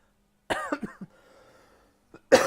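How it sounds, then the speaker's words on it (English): A man with a lingering cough gives a close, loud fit of several rough coughs in quick succession, followed by a quiet pause and then one more sharp cough. "I do still have a bit of a spicy cough, so you may endure some coughing today"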